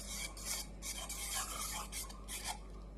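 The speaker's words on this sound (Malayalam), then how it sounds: "ഇനി നമുക്കിത് നന്നായിട്ടൊന്ന് ഇളക്കി കൊടുക്കാവേ." Wheat flour mix for jackfruit halwa is stirred in a pot by hand, a steady rasping scrape that repeats in strokes about every half second, close and moderately quiet with no talk.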